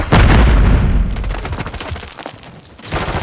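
A Semtex grenade detonates in Call of Duty: Modern Warfare III multiplayer, a loud, close boom that rumbles and fades over a couple of seconds before more gunfire-like noise picks back up.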